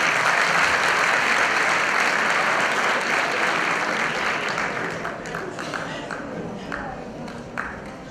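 Large audience applause greeting folk performers of Grinčara and humorous dances from Vojvodina, a dense sustained roar of clapping that slowly thins out toward the end.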